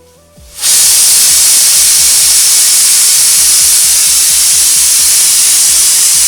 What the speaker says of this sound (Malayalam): നമ്മുടെ ചിക്കൻ സ്റ്റൂ വിസിൽ വന്നിട്ടുണ്ട്